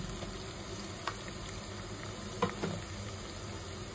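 Ginger garlic paste frying over a low simmer flame in a pan with turmeric, a faint steady sizzle with a couple of soft scrapes from stirring.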